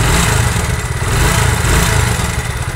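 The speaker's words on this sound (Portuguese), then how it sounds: "Lenta tá instável, com três voltas no parafuso da mistura." A Yamaha YBR Factor 125 motorcycle engine idling unevenly after a diaphragm piston replacement, with the mixture screw at three turns: a loud, close, continuous low chugging with a slightly wavering, irregular pulse.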